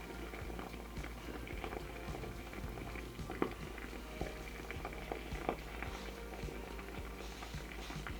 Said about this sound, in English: So I think a good starting point is a facial steamer.